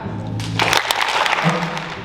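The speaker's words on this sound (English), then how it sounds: "I'm going to do one, and then everybody's going to give one clap" A school spring instrumental concert audience, with a brief burst of clapping and crowd noise rising near the middle and some faint voices around it.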